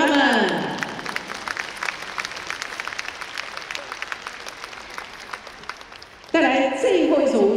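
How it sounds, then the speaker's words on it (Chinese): An audience applauds ballroom dancers in a professional modern semifinal at the 2018 WDC World Grand Prix. Dense clapping starts loud, thins and fades over several seconds, then a voice speaks through a loudspeaker. "再次热情的掌声送给他们"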